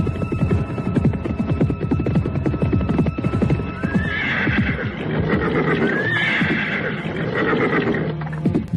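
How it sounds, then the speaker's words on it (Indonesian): A horse whinnies twice loudly over a steady rhythm of galloping hooves in an Indonesian audio drama, the hoofbeats close and continuous throughout. "Tawang Alun justru membedal kudanya."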